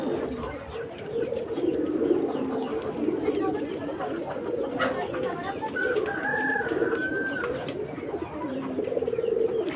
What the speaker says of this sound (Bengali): ওই মুরগি, ওই যে মুরগি বেরোয় গেছে।